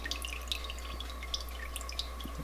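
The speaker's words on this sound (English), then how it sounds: "Let some of this water drain off of them." Water drips steadily off pieces of cured bacon lifted from a brine bath, fine patter and trickle over a constant low electrical hum, with no talking.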